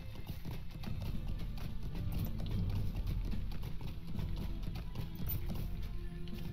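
Horse hooves clip-clop steadily at an even pace in the Lord of the Rings Online game, a constant soft rhythmic patter with low background music and no talk.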